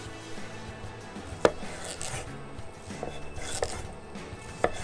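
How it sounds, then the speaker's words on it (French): A knife cutting food into small pieces, quiet rubbing and slicing with a few sharp knocks on the board spaced unevenly, close and fairly faint, with no one talking. "On va pouvoir la couper en petits morceaux, vous allez voir."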